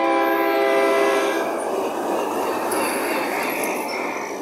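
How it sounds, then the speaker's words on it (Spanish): KCSM 1072 light locomotives running without cars, passing with a loud sustained multi-tone horn blast that fades into rumbling engine and rail noise, with faint wheel squeals later on. "Aquí viene un tren, parece el granulero con los 1072 de regreso."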